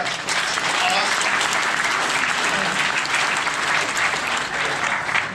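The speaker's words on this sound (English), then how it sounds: "So give yourselves a round of applause." Audience applause at a motorsport Q&A event, a dense steady clapping from a sizeable crowd lasting several seconds, close and full throughout.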